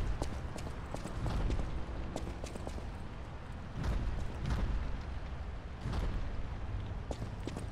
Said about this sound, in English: I definitely hear some big ass fucking footsteps